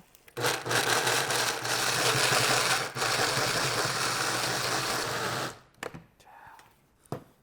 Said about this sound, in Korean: 이 상태에서 제가 블렌더에 넣고 한번 갈아 보겠습니다